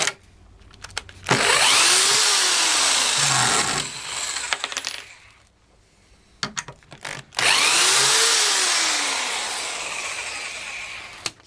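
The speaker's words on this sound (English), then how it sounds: "driving screws is not a hammer drill's or a corded drill's speciality" A Black and Decker KR705K hammer drill driving screws runs in two long bursts of whining, grinding noise, separated by pauses with clicks and rattles, loud and close.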